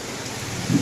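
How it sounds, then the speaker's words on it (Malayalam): Heavy rain falling outside in a village, a continuous soft hiss of drops on surfaces that swells slightly near the end, with no talking. "ഇവിടെ പുറത്ത് നല്ല മഴയാണ്."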